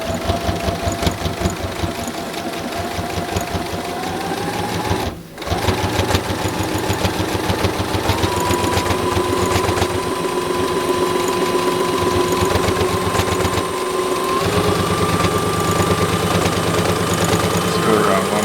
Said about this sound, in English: I will want to be careful to stitch nice and close to the edge.